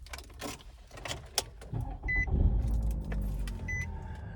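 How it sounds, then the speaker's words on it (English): A 2017 Nissan Rogue S starts up close by: keys jingle and click first, then the engine catches and settles into a low, steady idle rumble. "And I'll just let you listen to this start up."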